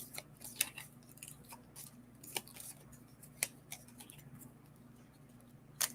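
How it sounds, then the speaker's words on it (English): Oracle cards being shuffled by hand, a soft run of light papery flicks and taps at close range over a low steady hum, with no talk. "I'm just going to shuffle from this little group that fell out."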